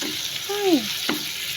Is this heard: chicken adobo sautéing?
yes